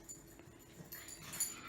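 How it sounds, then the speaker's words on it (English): A dog whines and whimpers to be let outside, in soft, broken bursts close by, with no talking over it. "My dog is right here, needs to go potty."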